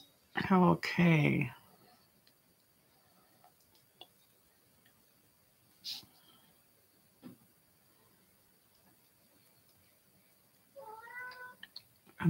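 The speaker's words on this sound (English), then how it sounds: "I don't know if you can hear my cat." A house cat that wants to go outside gives a loud burst of close meows, then falls quiet amid faint ticks and small noises before meowing again near the end.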